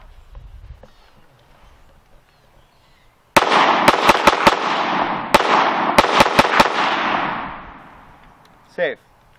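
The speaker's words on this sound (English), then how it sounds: "we just went about 6 or 7 shots in rapid succession there" An FN Five-seveN pistol fires a quick string of about nine sharp shots in two bursts, loud and close with ringing echoes after each group, and a brief voice follows at the end.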